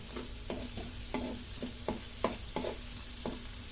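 Garlic and onion sautéing together in a pan for pork menudo, a low steady sizzle broken by a regular series of scraping stirs from a cooking utensil, close and fairly quiet, with no talking.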